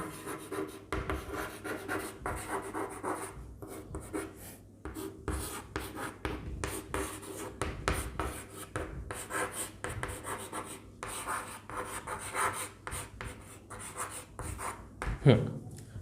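Chalk or marker writing on a board during a classroom lesson on Indian polity, scratchy rubbing strokes in quick irregular bursts, close and fairly loud, with a voice talking over parts of it.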